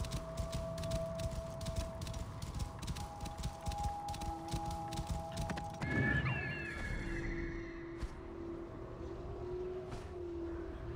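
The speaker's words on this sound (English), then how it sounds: "Must be the horse the thieves used to escape." A horse whinnies in the video game Assassin's Creed Origins, a wavering neigh partway through, over ambient game sounds and steady clip-clop-like background texture.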